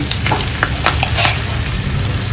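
Crushed ginger and garlic paste fries in a pan with a steady sizzle, scraped by a few light stirring clinks over a constant crackling hiss.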